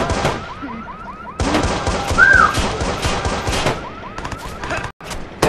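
Rapid bursts of automatic gunfire fill a Watch Dogs video game street riot. A wailing alarm or siren tone runs underneath, and the shots are loud and sustained with brief gaps.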